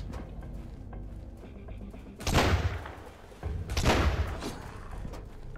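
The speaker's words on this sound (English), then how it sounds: "Let's just see if this rifle is basically okay." A bolt-action rifle in the survival game Sunkenland fires twice, about a second and a half apart. Each shot is a loud, booming blast with a rolling tail over a steady low background.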